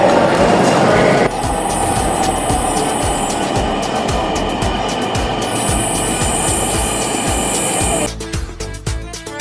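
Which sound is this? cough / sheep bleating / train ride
train ride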